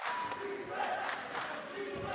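Basketball crowd at an Alice Lloyd College Eagles home game chanting "defense" together, a dense, sustained roar of many voices filling the gym at moderate distance.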